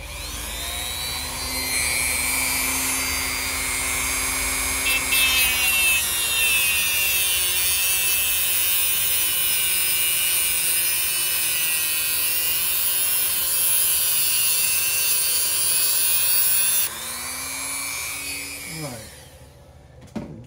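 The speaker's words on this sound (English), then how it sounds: "I have to grind that hook off, or else I'll mess my spring up" A grinder takes the hook off a wound spring made on a Hemingway spring winder, a loud steady high whine that runs for about seventeen seconds, then winds down and stops.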